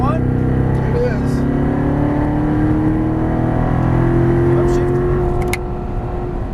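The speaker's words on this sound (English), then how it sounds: "Follow that Corvette. Full throttle if you want." A Chevrolet Corvette Stingray's engine pulling hard at full throttle, a loud, steady droning roar whose pitch climbs gradually as the car accelerates.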